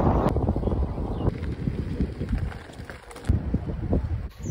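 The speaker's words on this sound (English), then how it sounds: "Windy." Low, blustery rumble of wind buffeting the microphone, gusting unevenly throughout with no clear voices.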